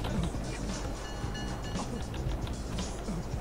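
A train ride in the Marc Ecko's Getting Up video game: a steady rumbling, rattling roar of rail cars with a faint hiss, dense and continuous, with a few quiet tonal whines.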